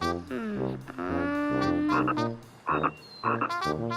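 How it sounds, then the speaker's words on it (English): A common tree frog croaks in a run of repeated rhythmic calls. The calls come close and clear, and some are long and drawn out while others are short bursts. Other animal sounds and a light background chorus can be heard around them. "It's a common tree frog."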